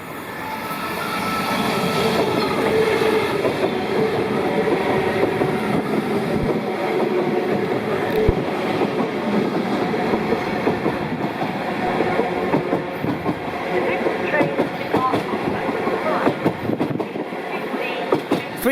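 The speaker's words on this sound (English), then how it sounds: "We have an Elizabeth line about to pass platform number 4." An Elizabeth line Class 345 train rumbles steadily past a station platform at close range, a continuous loud roar of wheels on rails with faint clicks and squeals throughout.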